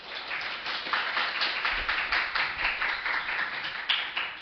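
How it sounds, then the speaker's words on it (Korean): Church youth congregation clapping to welcome a visiting pastor, a modest crowd's uneven hand claps at moderate level, fairly close and without talk. "우리 박수로 환영할까요?"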